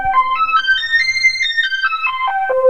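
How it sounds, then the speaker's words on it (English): An FM synth tone, a sine wave running through a low-frequency sine carrier, steps up then down a pure, bell-like scale of about a dozen notes, clean and loud with no voices. "So that's the sound of a sine wave passing through that low frequency sine wave."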